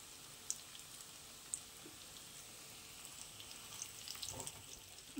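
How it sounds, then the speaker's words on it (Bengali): Spinach fritters lightly frying in hot oil give a faint, steady sizzle with a few sharp ticks and small crackles, no voices present. "তেল গরম হয়ে গেছে, এবার এগুলোকে আমি দিয়ে ভেজে নেব।"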